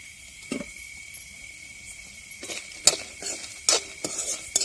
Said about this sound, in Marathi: आपल्याला हा कांदा आहे ना चांगला असा परतून घ्यायचा आहे